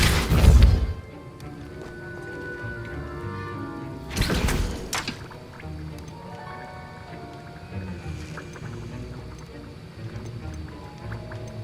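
Depulso spell casts in the Hogwarts Legacy video game, with sharp whooshing bursts at the start and again near four seconds over a steady background of game music and ambience.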